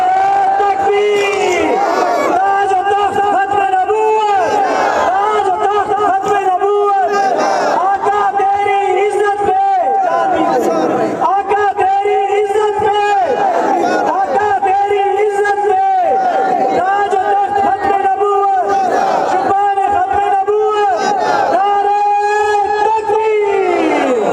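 A large crowd at a religious gathering chants loudly and in unison in answer to a Takbeer slogan call, rising in rhythmic, repeated surges that fill the whole stretch without pause.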